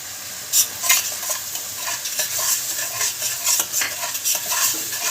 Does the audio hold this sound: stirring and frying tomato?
yes